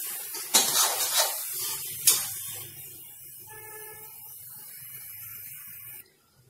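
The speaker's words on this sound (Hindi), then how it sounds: "अब मैं इसमें थोड़े से हमारे सूखे मेवे, मिक्स सूखे मेवे है वो मैं मिला रही हूं।" Mixed dry fruits are stirred into carrot halwa in a cooker pot: a few close metallic scrapes and clatters of a spoon, then quieter sizzle with a faint tonal hum and no talking.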